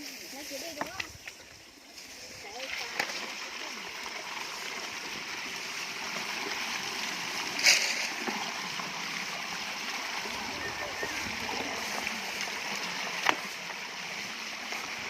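Released water flows outdoors with a steady broadband rush, a few sharper splashes near the start and a gurgling spike midway.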